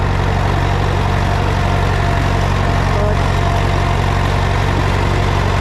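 A little red tractor engine runs steadily at a low, even throb while rolling a field, loud and close throughout with no break in the drone.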